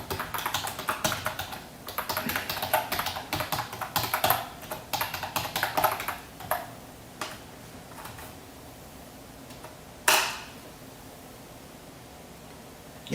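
Fast, close typing on a computer keyboard clatters in quick bursts for about six seconds, then thins to a few scattered keystrokes and a single sharp tap.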